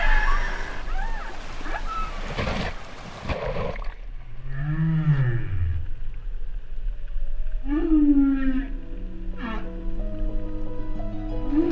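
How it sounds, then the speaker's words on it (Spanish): Humpback whale song in the Pacific: low moaning swoops and rising, wavering calls, separated by pauses, set against a steady underwater hiss with a burst of noisy rumble at the start. "Todas las ballenas dentro de un mismo grupo cantan la misma canción."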